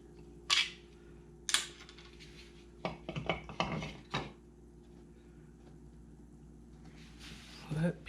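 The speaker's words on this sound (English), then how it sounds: "If I can get this screw out." Screwdriver work on a Bass Tracker boat console during a wiring overhaul: a few scattered clicks and metallic rattles, a brief cluster of clanks midway, with a low steady hum underneath and a voice speaking.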